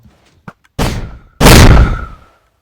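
A wind charge wither blaster fires in a video game. A couple of small clicks come first, then two sharp, booming blasts, the second louder and longer before it fades out.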